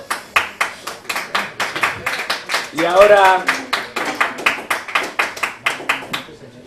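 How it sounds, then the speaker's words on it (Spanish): Rhythmic handclaps at a book presentation in Valencia ring out steadily, about three per second, close and crisp, while a voice speaks briefly over them midway. "Te he mirado porque estabas aplaudiendo"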